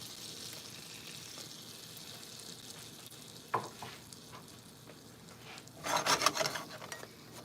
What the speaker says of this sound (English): Now, over the butter, I'm going to put flour. We're gonna make a roux.